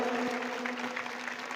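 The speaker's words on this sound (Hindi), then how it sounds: "एक बार जोरदार तालियों से स्वागत व अभिनंदन करेंगे।" Hall audience clapping to welcome a guest at a Meghwal community gathering, a steady wash of applause that holds for the whole short stretch at moderate level.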